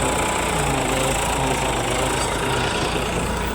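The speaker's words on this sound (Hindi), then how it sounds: "और फिर ट्रैक्टर भी आ चुका है" A tractor engine runs steadily in a field near a burnt crop, a constant low rumble with a broad noisy wash over it, unbroken and fairly loud throughout, with no voices.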